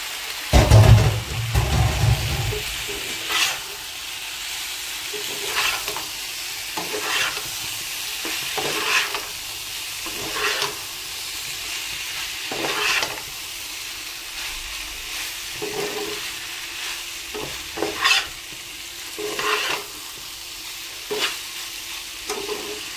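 Pasta sizzles in a hot pan while being stirred, with a steady hiss broken by repeated scraping strokes every second or two, close and moderately loud throughout.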